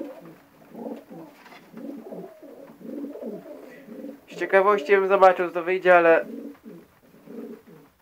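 Pigeons coo in a loud, nearby burst of rolling, throaty calls, while someone talks quietly over softer bird murmuring.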